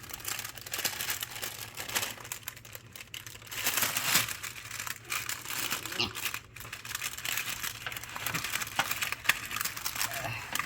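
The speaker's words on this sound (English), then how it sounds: "I know the parchment is cold, so I'm taking the parchment." Cold parchment paper handled while making croissant cookies, crinkling and rustling in irregular bursts close by, with people talking throughout.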